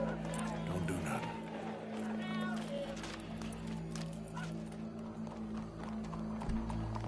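Horse hooves in Red Dead Redemption 2, a rhythmic clip-clop under steady game ambience, with people talking over much of it.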